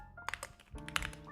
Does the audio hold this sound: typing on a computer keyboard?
yes